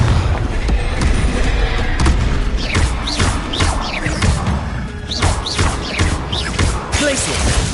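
Booming spell blasts from Hogwarts Legacy combat, a dense run of heavy thuds and crashes over continuous battle noise and music, with voices briefly audible.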